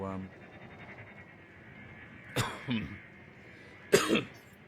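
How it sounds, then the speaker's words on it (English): Two short bursts of coughing, each a couple of harsh hacks, break through a quiet room with faint background murmur. "so I'll end up coughing and spluttering everywhere."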